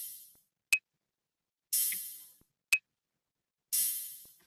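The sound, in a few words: two-beat percussion loop pattern made in Logic Ultrabeat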